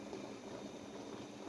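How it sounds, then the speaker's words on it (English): Mushroom mixture for a vegan lasagna bubbling on a stovetop over high heat, a steady close hiss and crackle of boiling liquid with no pauses, heard alone. "As you can see, it's already bubbling up."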